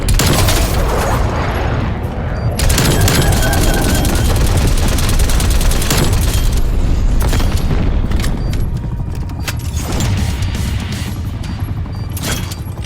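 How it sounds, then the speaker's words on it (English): A napalm strike in a Call of Duty game: a long, loud, continuous roar of booming explosions and crackling fire fills the whole stretch, with sharper blasts popping through near the end. "napalm strike inbound"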